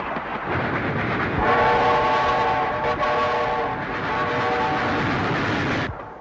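A train runs on tracks in an old film, a dense, loud continuous rumble with a steady chord of horn or whistle tones sounding over it for several seconds.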